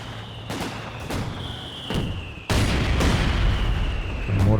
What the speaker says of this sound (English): Mortar pit action.